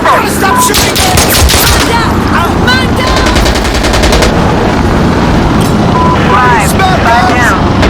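Constant loud automatic gunfire and explosions from a snowy Insurgency Sandstorm multiplayer match, rapid bursts layered over a dense battle roar, with players talking over the chaos.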